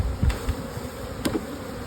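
Honeybees buzz at an open beehive during a single brood chamber inspection, a steady close insect drone with a few louder bursts as bees fly near.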